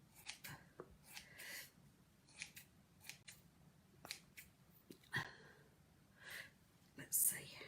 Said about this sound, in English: So now you can trim his beard.